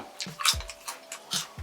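Lay's chili crab potato chips being chewed up close, with several crisp crunching bites in an uneven rhythm, fairly quiet and with no talking.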